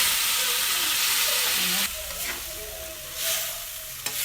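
Taro pieces frying in a pan for a knife fish curry make a loud close sizzle that drops to a quieter hiss partway through, with light stirring scrapes.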